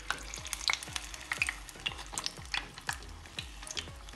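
Veg stuffed cabbage rolls fry in a pan with a soft, steady sizzle, broken by a regular series of scraping stirs and turns from a utensil, close and fairly quiet, with no talking.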